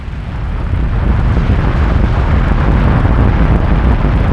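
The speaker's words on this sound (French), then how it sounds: "Le Sakurajima connaît en moyenne une explosion par jour." Sakurajima volcano erupting with explosions, a loud, sustained low rumbling roar that swells in the first second and then holds steady, with no voices.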